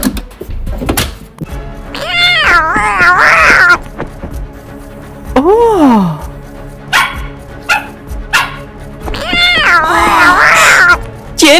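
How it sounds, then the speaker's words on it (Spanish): A cat meows loudly and repeatedly in a home near a door, with long, wavering, drawn-out cries in several bursts and a thump near the start. "¡Miau! ¡Miau! ¡Miau!"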